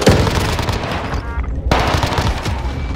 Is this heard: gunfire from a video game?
yes